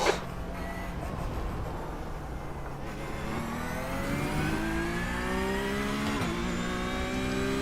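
A race car engine in a video game drones steadily, its pitch climbing as it accelerates through the gears, with a brief dip at each shift.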